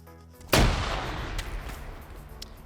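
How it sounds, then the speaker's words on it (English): In a PvP video game match, a single loud blast hits suddenly and its rumble decays over a couple of seconds, with fainter pops of distant gunfire scattered afterward. "Grenades going in."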